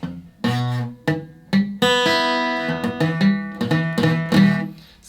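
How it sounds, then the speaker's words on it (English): Muffled, wrong-sounding guitar strums from poorly fretted strings, a series of short choppy strokes and a few longer ringing ones, played alone without talk. "you'll create that muffled sound and it won't be as clear as we want it"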